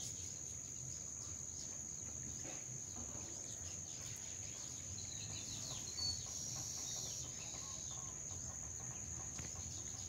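Birds call outdoors in a Konkan village garden during the Ganesh festival, faint repeated chirps and clucking over a steady high insect drone and crickets, distant and continuous with no talking.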